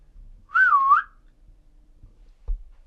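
A person whistles one short, clear sliding note that dips and rises inside a quiet reputedly haunted place, followed by a faint knock.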